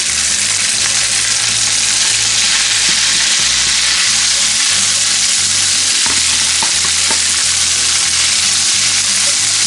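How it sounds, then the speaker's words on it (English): Spaetzle dumplings sizzle and fry in butter in a cast iron pan, a loud, steady crackle with occasional stirring scrapes throughout. "we'll add them to the frying pan with some butter"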